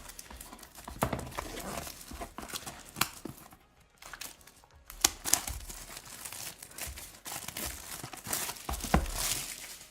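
Sealed trading card display box being opened with a cutting tool, with close crinkling, tearing and crackling of plastic wrap and cardboard in irregular bursts, a brief quiet pause midway, and no talk.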